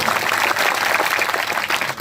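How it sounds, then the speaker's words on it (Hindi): Audience at a Bihar folk song stage event claps loudly for a singer, a dense continuous burst of applause close and steady throughout. "एक बार यूपी की बिटिया के लिए जोरदार तालियां बजाइए।"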